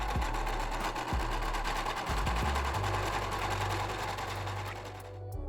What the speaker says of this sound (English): we're going to go ahead and stitch the elastic band on.